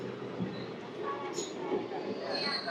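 Puri Tirupati Express, train 17479, pulling out of Tanguturu station: a steady low rumble of moving rail cars with faint high wheel squeal, continuous and fairly close throughout.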